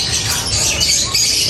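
A bird lets out harsh, raspy squawks close by, a noisy burst that carries on through the short moment.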